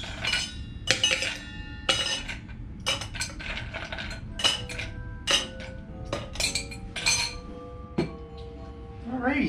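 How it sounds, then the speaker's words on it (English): Ice cubes drop into a cocktail shaker as a martini is being made, giving a close burst of sharp clinks and rattles in uneven clusters, with fainter rattling between them. "And let's add some ice cubes."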